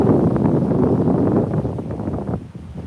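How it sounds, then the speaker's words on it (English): Strong wind on a Fort Lauderdale beach with rough, heavy surf, a loud continuous low roar buffeting the microphone, easing slightly near the end, with no talk. "And it's pretty windy."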